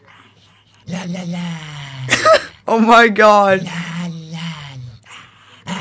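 A dog barks in the video game Fortnite, a few short yelping bursts in the middle, mixed with a person's laughing exclamations that run through most of the moment.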